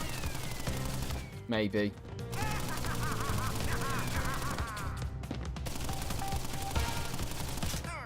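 Tommy gun fire in Crash Bandicoot N. Sane Trilogy, a steady loud rattle running under game music and sound effects, with someone briefly speaking partway through.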